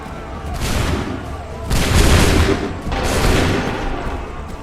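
Musket volleys in Assassin's Creed III: two or three massed, booming bursts of gunfire, each rolling on for about a second and overlapping into a loud, continuous roar.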